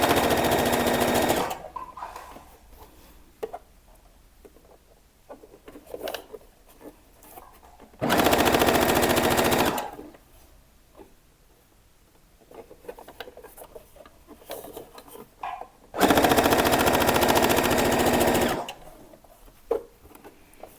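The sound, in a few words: sewing machine stitching a seam with a backstitch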